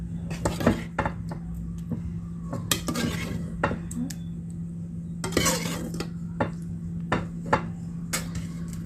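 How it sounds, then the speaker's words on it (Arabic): Stuffed-vegetable rice mixture with tomato sauce being stirred in a pot, giving repeated clinks and scrapes of a spoon against metal at an irregular pace over a low steady hum, close and fairly quiet. "هقلب بقى الخلطه دي كلها مع بعضها"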